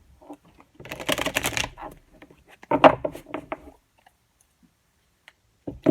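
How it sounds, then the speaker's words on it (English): Cards being shuffled up close in a few quick riffling bursts separated by quiet pauses, with soft clicks between. "almost done shuffling. I know it's probably loud."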